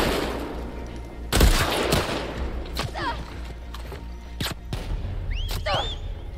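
Gunfire in The Last of Us Part II breaks out as a heavy nearby shot followed by several sharper, spaced reports and thuds, with a voice speaking over the fighting in between.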